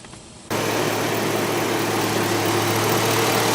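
GMC truck engine just fired up, settling into a steady, even idle close by after a brief quiet moment, with a constant low hum and no talking.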